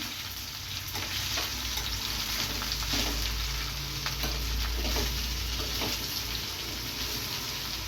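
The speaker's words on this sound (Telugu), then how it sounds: "మన బెండకాయ ముక్కలు వేసిన తర్వాత కిందన్న తాలింపు పైకి వచ్చేదాకా బాగా తిప్పాలి కలబెట్టుకోవాలి" Okra pieces sizzle steadily in a hot pan with tempering spices while a utensil stirs them in repeated scraping strokes. The sound is close and continuous, with no talking.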